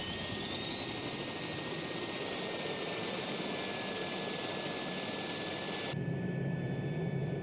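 Alouette III SA-316B helicopter in Microsoft Flight Simulator spooling up at engine start, a loud steady turbine whine with rising high-pitched tones over a broad roar that drops to a lower, rumbling idle near the end.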